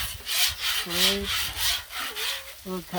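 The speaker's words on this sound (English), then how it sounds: "Look how easily a well-seasoned griddle cleans up." A metal scraper rasps across a seasoned Blackstone griddle in rhythmic back-and-forth strokes, loud and close, while someone talks in short bursts between scrapes.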